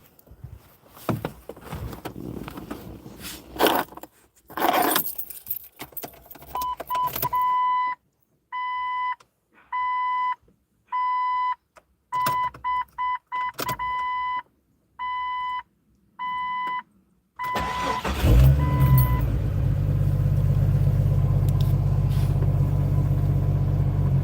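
A 1999 Jeep XJ with suspect fuel injectors: a chime beeps in a regular on-off pattern, then the engine cranks and catches, settling into a loud, steady idle for the last few seconds.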